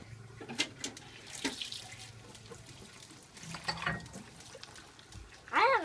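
Tap water runs into a sink during hand washing, a steady close splashing stream with brief clatters, softer murmuring voices in the background and a sharper burst of activity at the end.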